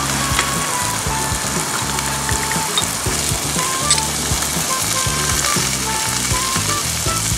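Steady, dense sizzling and crackling of meat grilling on a hot surface, close and continuous, with faint clinks of utensils now and then.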